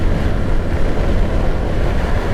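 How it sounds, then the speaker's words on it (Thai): Strong wind buffets the microphone while riding a Honda Wave 110i 2022 motorcycle, a loud, continuous roaring rush with no break and no voices. "โอ้ลมแรงมาก"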